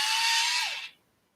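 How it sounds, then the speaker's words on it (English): Sharpener grinding down a yellow ochre colored pencil, a loud, steady motorized whir lasting under a second before it winds down and cuts off into silence. "I'm going to come in with yellow ochre, except for I need to sharpen it a bit"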